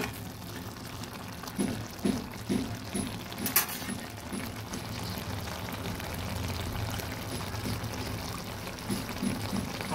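A little water is poured into a pan of poppy seed paste with ridge gourd and potato, giving a short, soft splashing pour amid light clinks and a gentle simmer, close by, with no one speaking.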